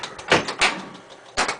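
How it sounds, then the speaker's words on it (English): A coin door on a Williams Star Trek: The Next Generation pinball machine being shut, a few close knocks and clunks in quick succession, the last one sharper. "So all we gotta do is shut the door"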